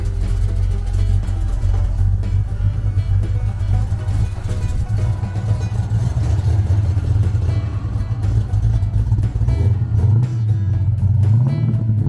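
Engine of a 1971 Ford Torino runs loud and close, a rough continuous drone with a rising rev near the end.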